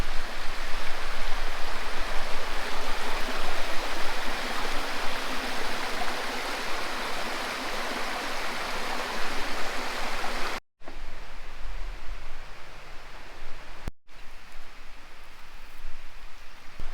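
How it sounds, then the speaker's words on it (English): A river in Devon flows with a continuous broadband rush, fairly close and steady, then drops abruptly and continues more faintly. "it's right by the river."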